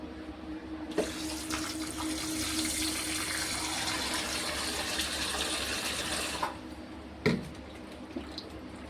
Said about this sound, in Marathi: पहिला आपण मटन चांगलं 4 पाण्याने धुवून घेऊया